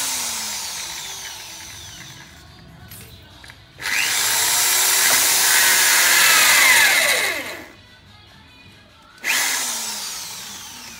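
Power drill boring straight through a plastic water pipe for a homemade sprinkler system, a loud whining burst of a few seconds, a brief pause, then the drill starting again.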